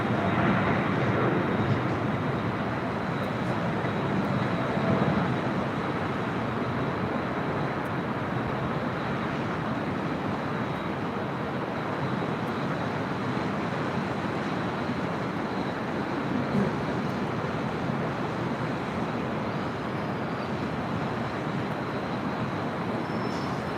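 A heavy jet departing a parallel runway at LAX at night, heard as a steady, broad roar that holds for the whole stretch from a distance, with no talking over it.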